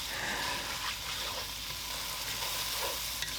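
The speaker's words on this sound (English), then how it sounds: "and we're adding in our garlic, our peppers, and our onion. Just add up everything in there and give it a nice stir." Garlic, peppers and onion sizzle in a hot pan while being stirred, a dense, constant frying hiss with soft scraping strokes, close and unbroken.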